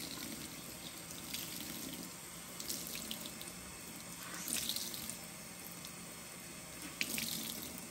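Warm water runs steadily from a tap into a sink, a continuous close splashing hiss with slight surges and a few drips.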